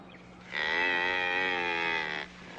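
A single cow gives one sustained, fairly loud moo lasting under two seconds, alone against quiet ranch surroundings where salt-starved cattle graze.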